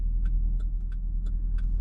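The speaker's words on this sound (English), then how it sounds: "We're gonna let the car warm up a little bit before we do start having some fun." A 600hp Cadillac CTS-V engine idles while warming up, a steady deep low rumble heard close, with light regular ticking clicks repeating about every third of a second over it.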